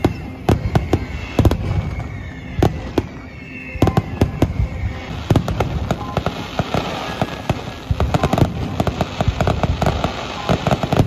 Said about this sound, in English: If you've ever been to a firework display in the UK, then this is next level.